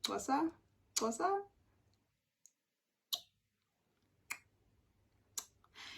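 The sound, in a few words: tongue clicks imitating Xhosa click consonants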